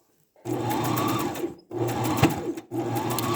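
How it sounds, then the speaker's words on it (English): A sewing machine stitches a round scrunchie-style fabric bin in three loud, close bursts of rapid whirring. Each run lasts about a second and ends in a brief stop before the motor starts up again. "I will be back once I'm done sewing this"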